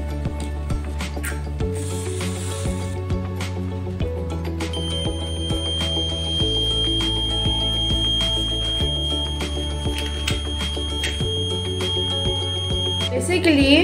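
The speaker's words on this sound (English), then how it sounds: "Now I will show you a proper working fire alarm." The buzzer of a battery-powered model fire alarm at a school science exhibition gives a steady, loud electronic tone that runs for about eleven seconds. Hall chatter and background noise sit underneath it.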